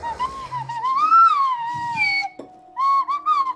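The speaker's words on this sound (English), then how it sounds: "That's a full-on slide whistle, right?" A slide whistle plays a sliding, wavering tune, rising and falling in pitch, with a short pause before a final phrase. The notes are loud and close.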